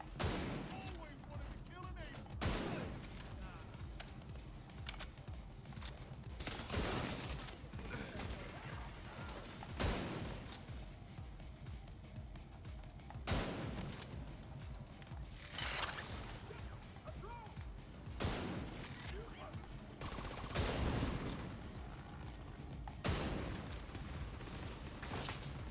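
Gunfire in The Division 2 video game while aiming for headshots, with repeated bursts of shots and loud impacts spread across the stretch, interleaved with quieter gaps and occasional talk.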